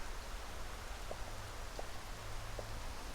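Steady heavy rain pours on a porch where chickens shelter, a constant soft hiss with a few brief drip taps, no talking.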